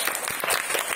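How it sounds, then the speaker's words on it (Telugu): Children in a classroom clap together for a classmate's artwork, a dense, steady patter of many small hands close by that runs for about a second. "క్లాప్స్ కొట్టండి"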